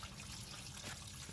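Water from a spigot runs through a hose into an RV's black and gray holding tanks, a soft, even rushing trickle heard faintly throughout.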